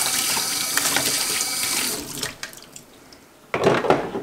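Tap water splashes over a vacuum cleaner filter caked with flour, a steady close rush that drops away briefly and then surges back strongly near the end.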